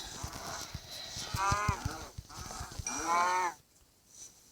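Cow mooing calls from Minecraft, two or three drawn-out lowing sounds broken up by clicky steps and other game effects.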